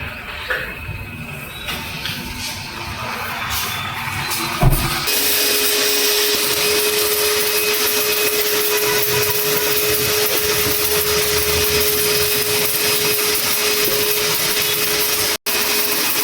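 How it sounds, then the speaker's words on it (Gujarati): A powerful vacuum cleaner roars steadily while cleaning a car's interior at a car wash, a loud continuous whine with a faint tonal hum that starts after a few seconds of quieter background noise, with one brief dropout near the end. "જોઈ લે હવાનું મશીન આખું વેક્યુમ ક્લીનર."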